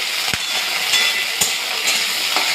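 Fresh homegrown okra fries in hot oil, giving a steady close sizzle with sharp spattering pops at irregular intervals.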